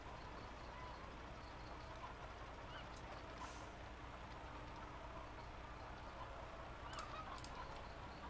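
Chickens cluck softly in Farming Simulator 17, their calls blending into a steady farmyard ambience that carries on evenly throughout.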